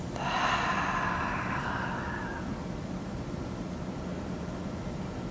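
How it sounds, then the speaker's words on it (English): One deep breath drawn in through the nose and let out through the mouth, the airy rush strongest at the start and fading into soft hiss after a couple of seconds. "Taking a deep inhale through your nose. Exhale out your mouth."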